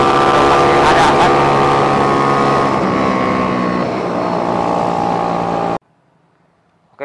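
Engine of an Astrea Grand 190cc motorcycle with a Daytona Anima replica motor, revving hard and loud close by for several seconds with steady harmonic drone, then cutting off abruptly into near silence before a brief blip.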